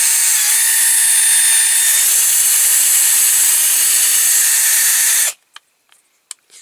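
A drill spins steadily and loudly for about five seconds while rounding the edge of a small part on a Lesney Matchbox No.4 Dodge stake truck restoration, then stops abruptly, followed by a few faint clicks.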